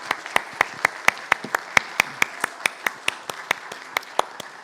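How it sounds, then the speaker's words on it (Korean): A church congregation claps in welcome for a lay leader coming forward to give a testimony at a Sunday worship service, a steady run of about twenty sharp, evenly spaced claps, fairly close and without talk. "우리 한번 큰 박수로 맞아주시기 바랍니다."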